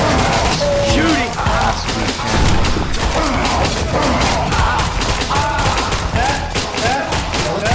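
Rapid gunfire in Left 4 Dead 2 on the Midnight Rail Run custom campaign: sustained, loud volleys of shots with thuds and booms, nearly continuous, while voices shout over the action.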